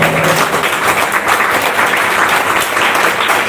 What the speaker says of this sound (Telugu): Can we give the Lord a big hand for that?